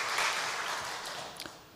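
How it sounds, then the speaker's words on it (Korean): Applause from a church congregation at an early-morning Thursday prayer service, a soft, steady wash of clapping held at moderate level, with a brief sharper tap near the end. "우리 1팀을 위해서 박수 한번 할까요?"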